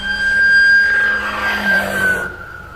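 Siren of a police car arriving on a Japanese roadside during a police response to motorcycle gang riders, a steady high wailing tone heard fairly close over traffic rumble for a couple of seconds before cutting off.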